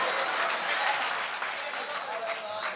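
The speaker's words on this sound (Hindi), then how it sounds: "जोरदार तालियों से एक बार इस्तेकबाल किया जाए दोस्तों" Applause from a mushaira audience at an All India Mushaira in Mominpura, a dense, steady wash of many hands clapping at moderate distance, fairly faint.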